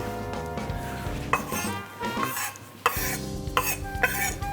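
Knife chopping capers together with shallot on a cutting board, a run of close, sharp taps and scrapes with clinks of utensils, no talking.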